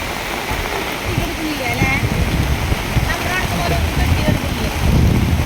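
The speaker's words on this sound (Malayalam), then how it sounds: "നല്ല മഴയായി ഗൈസ്." Heavy rain falls in the Athirappilly waterfall area, a loud continuous hiss mixed with wind buffeting the microphone, while people talk nearby.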